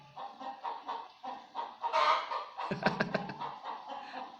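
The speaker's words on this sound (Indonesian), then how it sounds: "suara ayamnya padahal jauh." Chickens cluck and call from some distance in a village, a few separate bursts of clucking over faint background noise, with a louder squawking flurry in the middle.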